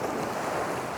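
Rough sea waves wash onto a beach in a steady, close surf roar mixed with wind buffeting, continuous over a brief stretch.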